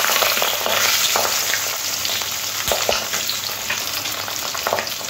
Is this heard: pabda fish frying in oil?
yes